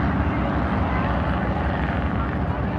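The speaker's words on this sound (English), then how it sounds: "There's Merle Marshall, a beautiful 1948 Simpson Pigtail" 1948 Simpson Pigtail light airplane at an air show, its propeller engine droning loud and steady at close range for the whole stretch, with no pauses or shifts in pitch.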